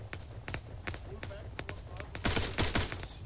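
Gunfire from the southwest during an ArmA 3 combined-arms operation: scattered single shots and short bursts at moderate distance, then a louder rapid volley near the end, with voices talking throughout.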